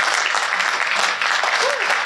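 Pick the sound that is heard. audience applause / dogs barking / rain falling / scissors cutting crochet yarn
audience applause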